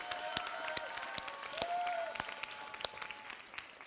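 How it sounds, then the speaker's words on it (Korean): A church youth-group congregation applauds to welcome new first-year middle school students, a scattered wash of clapping with distinct sharp individual claps standing out, fairly soft and roomy. "우리 중학교 1학년 친구들을 위해서 우리 환영의 박수 한번 우리 합시다."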